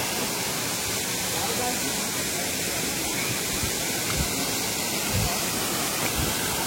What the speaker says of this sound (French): On vient d'aller sous la cascade